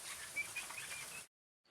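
Factory-farmed pheasants flap their wings inside a shed, a faint, brief flurry of fluttering and rustling that stops abruptly into silence, followed by a tiny chirp at the very end.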